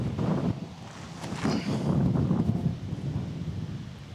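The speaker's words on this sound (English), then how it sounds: "Oh, this wind is so scary." Strong wind buffets the microphone outdoors on a disc golf course, a steady low rumbling roar that swells and eases in gusts, loud and close with no voices.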